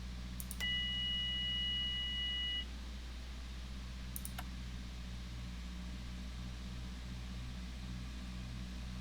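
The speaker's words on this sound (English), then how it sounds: "I heard a beep when I turned on the battery." In a flight simulator game, switching on the battery sets off a steady electronic beep lasting about two seconds. It sits over a constant low engine or fan drone, with a couple of brief clicks.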